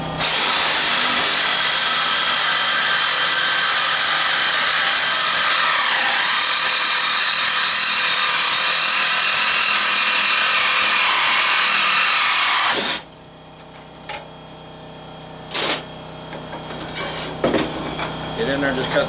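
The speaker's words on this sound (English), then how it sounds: "get in there and just cut this shaft off there" Power tool cutting through the metal motor shaft of a squirrel cage fan, a loud, harsh, steady grinding whine that stops abruptly, followed by quieter clanks and handling noises.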